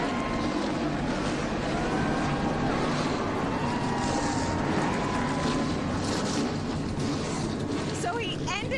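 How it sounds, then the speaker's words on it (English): NASCAR race car engines fire up at the Bubba Burger 250, a dense roaring rumble of many engines at the track, continuous and loud throughout, with crowd and PA noise mixed in. "Gentlemen, let's start your engine and get it on."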